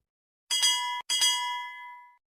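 Two bright bell-like dings of a notification chime, the second ringing out and fading slowly, clear and alone with no talk.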